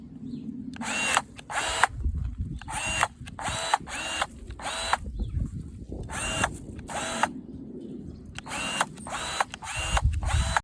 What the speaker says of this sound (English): It's great for pruning rose bushes, powerfully cutting softwood branches up to 28 mm thick and hardwood branches up to 15 mm thick.